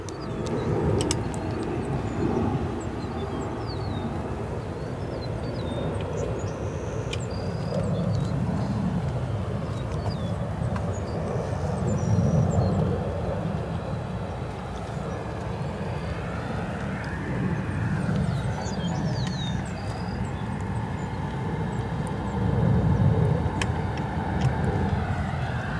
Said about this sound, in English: Here we have a 737-900 arriving in from Fort Lauderdale, United Airlines flight